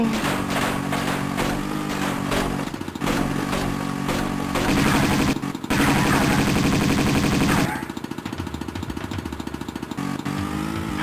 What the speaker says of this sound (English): This has machine guns.